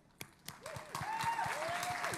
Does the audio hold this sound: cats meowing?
no